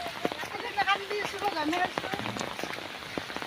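Steady rain patters on surfaces around a flooded village, a dense hiss of drops beneath a person talking throughout.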